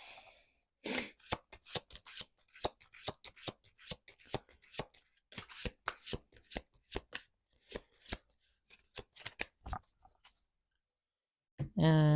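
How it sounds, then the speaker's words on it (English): A very thick deck of cards, split in half, is riffled and shuffled in rapid crisp bursts, a papery flutter repeating over and over, close up, ending with a brief voice. "I have to split the deck in half and shuffle"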